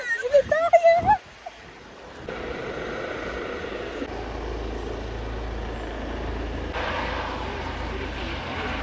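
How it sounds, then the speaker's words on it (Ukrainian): A helicopter taking off, heard as a steady broadband rotor and engine roar that builds in after a brief burst of excited talk and holds at a fairly loud level throughout. "Дивіться, от він хелікоптер, хелікоптер."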